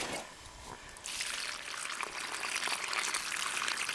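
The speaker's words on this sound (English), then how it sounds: "I'm not going to reuse this water, I'm just going to chuck it out somewhere where it's not going to cause me a problem" Dirty gold-panning water poured out onto the ground in the Australian outback, a quiet trickle at first that swells after a second into a steady, splashing, hissing pour.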